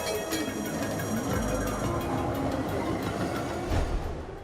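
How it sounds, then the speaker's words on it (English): An electric tram runs on rails with a steady, fairly loud rolling rumble and hiss, marked by periodic clicks and a few heavier low thumps as the wheels pass rail joints, with no voices. "Trams run on electricity, and the latest versions can actually generate some of their own power."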